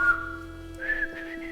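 A person whistles a short melodic phrase, a steady sustained note that then rises into a few quick wavering notes, close and fairly quiet.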